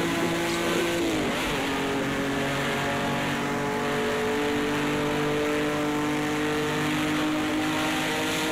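Race car engines scream in Project Cars 2 during a 24 Hours of Le Mans run, where Ferrari, Mercedes and BMW entries are racing. A loud, sustained whine holds near and constant, rising in pitch early on, with no voices.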